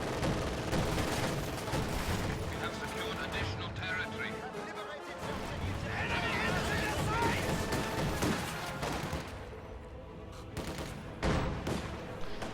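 Infantry gunfire in a strategy video game: rapid bursts of small-arms fire and scattered explosions rattle throughout, mixed with battle effects and occasional talk.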